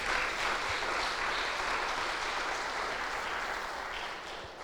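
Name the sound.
congregation applauding in church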